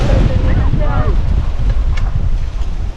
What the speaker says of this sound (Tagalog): May bagyo guys, bagyong hangin.